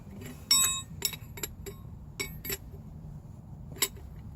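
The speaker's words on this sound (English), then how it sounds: "now I got my wrench on there," Wrench tightening an inner tie rod on a 2001–2004 vehicle, a few sharp metallic clinks and ticks spaced irregularly over a low background rumble, close by.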